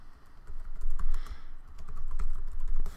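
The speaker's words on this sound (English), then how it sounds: "So I will just type in" Typing a folder name on a computer keyboard, a quick run of crisp keystrokes in irregular bursts, close and clear with no voice over it.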